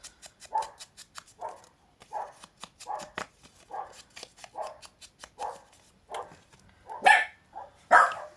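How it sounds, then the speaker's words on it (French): A pet dog barks repeatedly indoors behind a closed window, a rapid series of sharp, fairly faint barks in irregular bursts, with a couple of louder yelps near the end. "J'espère que vous n'entendez pas trop ma chienne"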